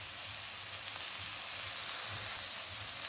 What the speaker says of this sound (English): So I'll fry this for another 3 minutes.